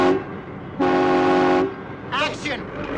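A train horn sounds close and loud in one steady toot of just under a second, followed by a shorter wavering horn blast, over quiet background noise.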